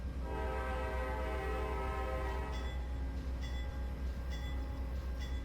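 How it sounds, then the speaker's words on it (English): A simulated Amtrak P42 locomotive in Trainz Simulator 3 sounds a sustained, loud horn over continuous rumbling, with higher ringing bell-like tones entering in the second half. "And so the horn and the bell."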